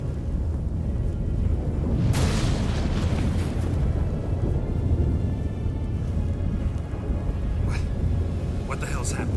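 Storm in The Witcher 3: Wild Hunt, a deep rumbling thunderous roar with a sharp crack, sustained under game dialogue.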